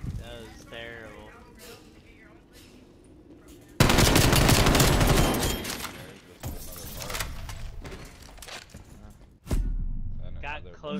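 Video game gunfire in two loud, dense bursts, one lasting about three seconds and a shorter one near the end, with talk and game sounds between them.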